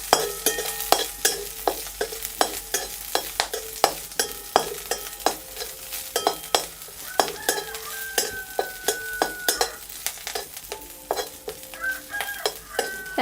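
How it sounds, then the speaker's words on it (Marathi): Steady crackling and popping as garlic and spices fry in hot oil for tempering, with repeated sharp spits and clinks of stirring in an irregular rhythm. "मंदाचेवर अशी आपण फोडणी करून घेणार आहोत"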